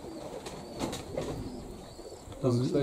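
Pigeons coo softly inside a pigeon loft housing Cochin and Brahma breeds, heard under a man's speech that continues through the clip.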